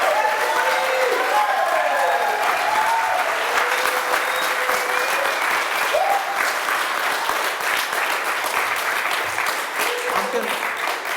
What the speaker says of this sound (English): let's make some noise for Jerry Norris, everybody.